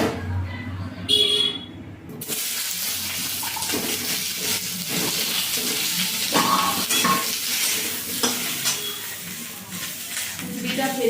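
Spices fry in hot oil for a vegetarian kundri (ivy gourd) dish, giving a steady, close, moderately loud sizzle that runs nearly the whole time after a brief quieter opening.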